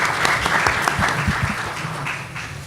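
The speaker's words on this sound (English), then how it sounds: "And big applause for him as well." Loud, close audience applause at a Generation Z and the Black Agenda panel during the ALC 2018 conference, a steady wash of many hands clapping for under three seconds.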